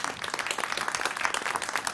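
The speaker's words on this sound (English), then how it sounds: "A big applause for this final group." A group at an advisory meeting receives a round of applause: many hands clapping steadily in a dense, continuous patter that holds through the whole moment.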